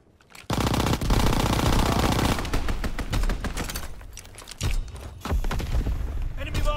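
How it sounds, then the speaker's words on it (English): Strafing run from aircraft in the video game Call of Duty WWII, a loud sustained roar of heavy machine-gun fire that thins into scattered shots and booms, with a voice speaking over it. "Strafing run inbound."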